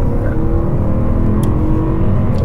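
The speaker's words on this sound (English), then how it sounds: "a lot of engine noise" Steady, loud engine drone from a BMW E92 M3 with a 414-horsepower V8, a sustained cabin-level roar holding at constant revs throughout with no talk over it.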